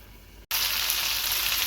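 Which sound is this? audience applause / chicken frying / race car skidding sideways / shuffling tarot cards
chicken frying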